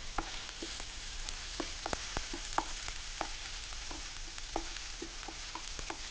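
Onions sizzling on a low flame in a pan, a soft continuous frying crackle close by, punctuated by light taps and scrapes of stirring, with no talk.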